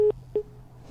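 Phone-in line on a radio show disconnecting, two short repeated tone beeps of a busy signal over faint line hiss.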